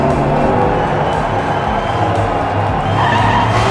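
Diecast toy race cars roar and skid around a miniature racetrack, with a loud, continuous rolling rumble and squealing tires throughout.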